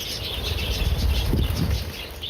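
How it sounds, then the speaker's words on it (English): Hundreds of budgies and cockatiel parrots kept indoors on a house's top floor make a steady wash of wing flapping and dense chirping, continuous and fairly loud throughout, with no voices. "He shares the top floor of his house with more than 600 budgies and cockatiel parrots."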